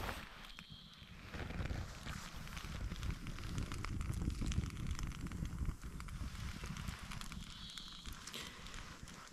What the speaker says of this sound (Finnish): Pistettiin pieni nuotio, että vähän hyttyset karkais kauemmaksi.